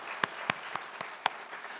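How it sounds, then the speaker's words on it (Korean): Sparse, scattered claps from a small church congregation, about five separate sharp hits spread across a quiet moment. "격려와 사랑의 박수 한번 보내주시면 고맙겠습니다"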